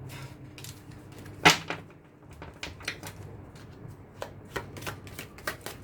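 Tarot cards being shuffled and cut at a table: a string of crisp papery riffles and slaps, one sharp louder snap early on, then lighter soft flicks spaced irregularly, close and fairly quiet with no talking.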